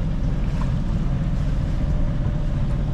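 A sailboat's engine drones steadily as it motors into port against a light headwind, a dense low rumble with wind and water wash blended in, continuous and fairly loud throughout.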